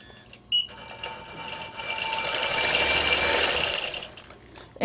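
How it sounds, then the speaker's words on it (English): A sewing machine quilting along a stitching line whirs up into a fast, even run of stitches, swelling in the middle and easing off, with small clicks at start and finish. "then I'm going to continue quilting"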